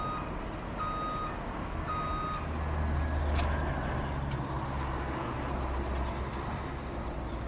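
Steady reversing beeps pulse in evenly spaced pairs over a low engine rumble as a truck backs up a trailer in Farming Simulator 17, with no one talking.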